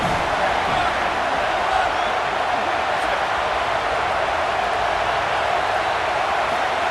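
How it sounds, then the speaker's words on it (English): Stadium crowd in the EA Sports College Football 27 video game, a steady, dense roar of many voices filling the whole stretch at constant loudness, with no clear peaks or single shouts. "This crowd ready to make its presence known."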